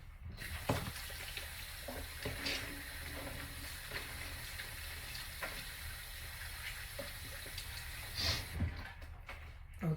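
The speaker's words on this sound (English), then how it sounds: "we're gonna wash our hands again" Tap water runs steadily into a kitchen sink while hands are washed under it, a continuous close hiss with small splashes and knocks.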